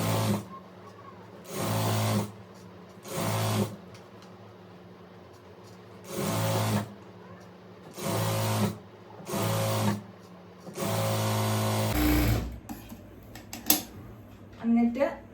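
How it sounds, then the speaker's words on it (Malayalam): A sewing machine stitches an A-line kurti with a front-pleated V collar, running in about six short bursts of a second or so each, with pauses between them and a longer run near the end. Close and fairly loud, followed by handling clatter. "ഞാനിപ്പോ ഇതിലേക്ക് തയ്ച്ച് കൊടുക്കാൻ പോവാണ്"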